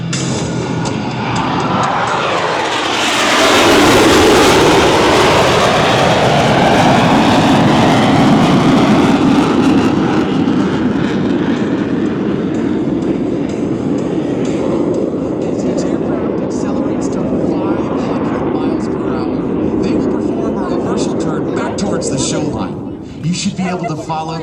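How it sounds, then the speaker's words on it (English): Four Blue Angels jets converge at the Cleveland National Airshow, a loud, roaring engine sweep that peaks and then holds as a dense rumble, with an announcer narrating over it. "all four aircraft converge on center point with maximum closure and minimum separation"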